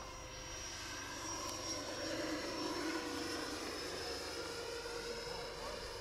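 An RC jet aircraft flies on a windy day, its turbine whine holding steady and swelling slightly as it passes, with wind rush mixed in the background throughout.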